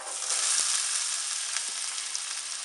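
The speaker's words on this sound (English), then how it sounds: "We're just going to let the onion cook for a little bit." Diced onion sizzles steadily in about two tablespoons of hot olive oil in a skillet, a bright, even hiss with a few faint pops, close and without talk.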